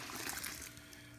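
Water pouring into a pan during an all-grain IPA homebrew day, a steady broad splashing rush that thins out after the first half-second, with no talk.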